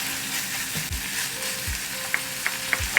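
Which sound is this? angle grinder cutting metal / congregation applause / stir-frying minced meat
stir-frying minced meat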